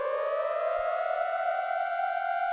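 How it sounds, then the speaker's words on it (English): A rising, wailing siren holds a steady harmonic tone that climbs slightly in pitch, loud and continuous with no talk, heard as a scene effect in the visual novel game Steins;Gate 0. "Suddenly, I heard a siren down below."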